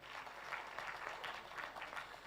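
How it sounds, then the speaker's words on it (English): Faint, steady applause from a conference audience at a regional investments and capital markets event, heard at a distance as brief continuous clapping. "A round of applause again."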